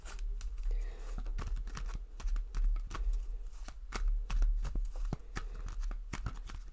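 Tarot cards are shuffled by hand in a quick run of crisp riffling snaps and slaps. The handling is close and fairly soft, with a low background hum.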